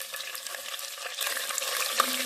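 Onions and dried red chillies frying in a pan for country chicken pulao, a bright continuous sizzle that swells partway through, with occasional soft stirring scrapes.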